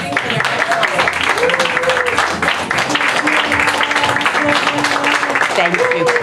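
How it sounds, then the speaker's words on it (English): An audience claps for elementary school music performers, a steady wash of applause mixed with children's voices and chatter, with sung or sustained vocal tones drifting through. "You may clap for them while they're moving to their next song."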